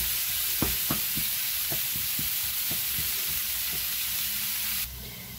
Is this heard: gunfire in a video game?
no